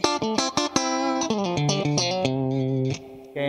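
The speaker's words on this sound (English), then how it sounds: "We're also hearing Fender's famous spring reverb." Electric guitar played through a Fender Supersonic combo amp with spring reverb, a clean, bright melodic line of picked notes and chords ringing out with a reverb tail, close and alone.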